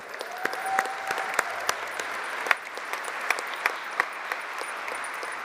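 Audience applause at a GMB Union Congress in Blackpool, a steady wash of many hands clapping with sharp individual claps standing out throughout, fairly distant and sustained.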